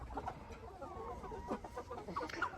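Two young roosters and some chickens cluck softly nearby in a continuous stream of short, low calls with a few higher squawks, against quiet farmyard background noise.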